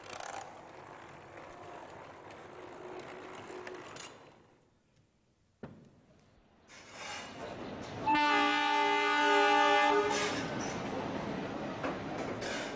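Shatabdi Express train arriving at Gwalior Station in India, with rumbling rail cars and mechanical clatter, then a long, loud multi-tone horn blast partway through, continuing over the noise of the moving train.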